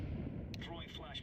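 A grenade explosion in a video game, heard as a low, rumbling boom that fills the clip, with a voice speaking over the tail of the blast.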